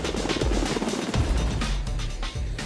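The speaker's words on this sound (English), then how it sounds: "one of the most technologically advanced helicopters in the fleet, the MH-60T Jayhawk" Loud, close MH-60T Jayhawk helicopter with a heavy rotor thump and roaring engine whine, steady throughout.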